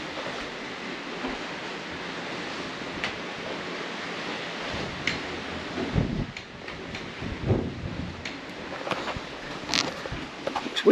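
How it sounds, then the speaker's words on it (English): Wind gusts across the open deck of the Anthem of the Seas cruise ship sailing into Belfast, a steady rushing roar with buffeting thumps on the microphone that grow stronger in the second half, with no talk. "Windy out there, get blown away."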